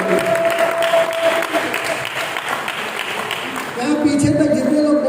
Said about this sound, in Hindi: ताली बजाओ एक बार तो इसके।